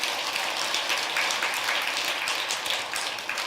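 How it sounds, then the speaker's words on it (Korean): Audience applause in a large hall at a Buddhist dharma talk at Tongdosa temple, dense steady clapping from many hands, moderately loud and sustained throughout, no talking. "박수 한번 해드리세요"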